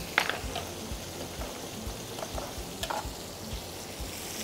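Garlic and vegetables sizzle steadily in a pan for a lamb breast stew, a close, continuous frying hiss with occasional stirring scrapes and no talking.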